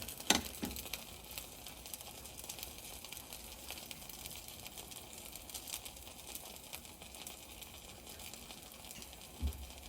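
Vegetable batter spread in an oiled pan gives a faint, steady sizzle with a few soft crackles and pops throughout.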